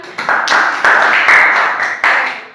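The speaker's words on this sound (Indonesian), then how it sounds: "Terima kasih kelompok 2 tepuk tangan." Short burst of classroom clapping for a student group during an accounting microteaching lesson, several people clapping unevenly close by for about two seconds, with no talking.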